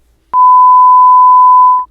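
A steady pure censor bleep tone, loud and sustained for about one and a half seconds with clean onset and cutoff, masking speech on a podcast.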